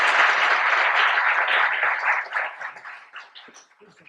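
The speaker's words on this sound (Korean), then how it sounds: "박수로 맞아주십시오." An audience applauds to welcome the university president at the opening of a research concert lecture at Pusan National University, a dense, loud burst of clapping that gradually thins out and fades.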